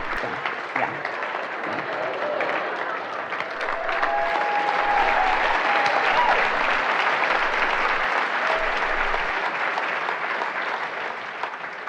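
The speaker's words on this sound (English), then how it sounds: "They're clapping for you" An audience at a spiritual seminar applauds in a sustained, even wash of many hands clapping, swelling slightly in the middle and holding steady, with a voice faintly beneath it.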